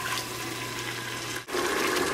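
Moscato wine or white grape juice gushes steadily into a pot holding celery and carrots for homemade spaghetti sauce, a loud continuous pour with a brief break near the end.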